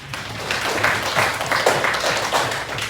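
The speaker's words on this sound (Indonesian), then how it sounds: "Tepuk tangan dulu." An audience at a school counselling training session applauds, a moderate, continuous patter of clapping with a few louder bursts over about three seconds and no speech.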